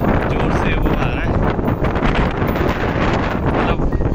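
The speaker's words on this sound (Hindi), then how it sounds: "बहुत तेज हवा चल रही है यहाँ का" Strong wind blasts across the microphone at Nane Ghat in Maharashtra during the monsoon, a loud continuous roar and buffeting throughout.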